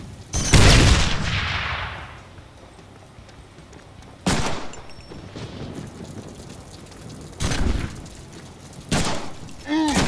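A grenade explodes in the Deadpool video game: a loud blast with a decaying rumble, followed by further sharp bangs and impacts spaced several seconds apart, with game noise between.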